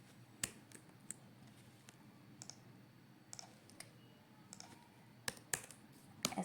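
Quiet, irregular clicks of a computer keyboard while JavaScript code is typed, sparse single keystrokes with short bursts near the end, close and faint over a soft room hiss.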